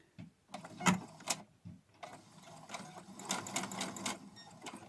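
A sewing machine stitches a quarter-inch seam on a fabric face mask in short close bursts of rapid mechanical whirring and ticking, separated by brief pauses.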